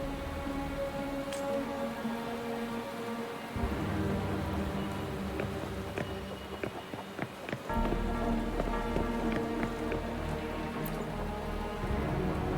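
Rain falls in Wuthering Waves: a steady, dense hiss of drops on surfaces, continuous and fairly loud, with sustained tonal sounds beneath it and no speech.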